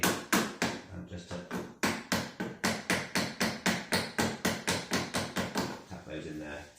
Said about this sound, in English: These ones are the snuggest ones, so my kitchen hammer might come in handy